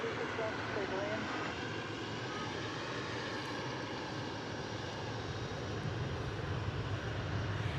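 An airliner taking off at DFW Airport, a continuous broad engine roar that stays steady and loud throughout, with faint radio chatter underneath.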